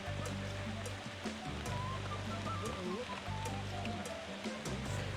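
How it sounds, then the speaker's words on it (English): Rain in the video game Sea Dogs 2: Pirates of the Caribbean falls as a steady, soft hiss of droplets over a low ambient drone, continuous and fairly quiet throughout. "Oh, it's raining."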